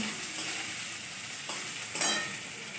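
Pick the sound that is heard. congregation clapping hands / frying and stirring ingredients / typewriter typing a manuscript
frying and stirring ingredients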